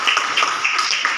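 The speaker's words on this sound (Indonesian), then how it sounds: "tepuk tangan untuk Ivo" Students applaud a classmate named Ivo in a high school class, a short, fairly loud spell of scattered hand claps from a group with no talking over it.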